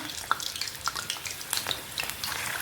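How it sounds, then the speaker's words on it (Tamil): Mutton kola urundai kofta balls fry in hot oil, a steady close crackle and sizzle with scattered sharp pops and no voices. "எடுத்து போட்டுட்டு நல்லா ஃப்ரை பண்ணிக்கலாம்"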